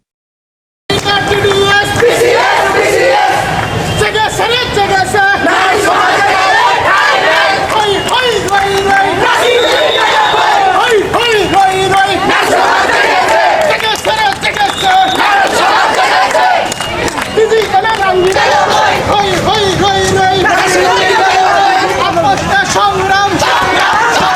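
A crowd of protesting nurses marching with black flags in Natore chants slogans loudly, many voices shouting in a rhythmic call-and-response that continues close and unbroken after a brief silent start.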